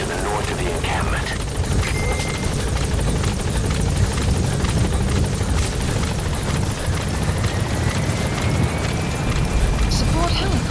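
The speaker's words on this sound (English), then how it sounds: "Support helicopter has arrived." Support helicopter arriving in the video game Metal Gear Solid 5, a loud, steady rotor thump and engine roar that fills the whole stretch, with game voices speaking over it.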